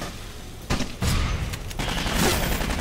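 Loud, dense gunfire in the shooter game Aliens: Colonial Marines, with heavy bursts of shots starting and stopping in quick succession over a continuous roar of combat.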